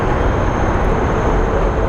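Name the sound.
large airplane at Phoenix Sky Harbor airport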